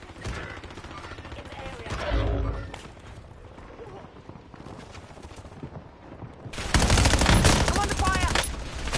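Bursts of automatic gunfire in Call of Duty: Warzone, a heavy volley early, then a louder sustained rattle of shots near the end, with game sounds in between.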